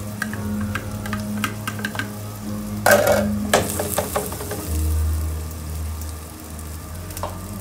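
Vegan Thai vegetable fried rice sizzling in a pan as chili goes in, with scraping stirs, clicks of a utensil on the pan and a brief louder hiss in the middle, no voices.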